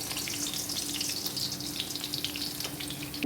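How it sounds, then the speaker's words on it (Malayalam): Garlic frying in hot coconut oil, giving a dense, steady crackling sizzle close by throughout, fairly even in loudness with no talk. "ഒരു വെളുത്തുള്ളി വെളുത്തുള്ളിയാണ് പൊരിക്കുക"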